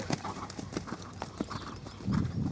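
Horse cantering on the right lead during a dressage warm-up, hooves thudding in a quick rolling rhythm close by, with soft snorts and light rustling over it.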